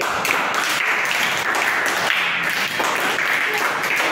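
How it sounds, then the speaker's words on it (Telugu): A crowd of children clapping together at a school sports day, a continuous patter of many hands close by with some voices mixed in. "క్లాప్స్ కొట్టండి."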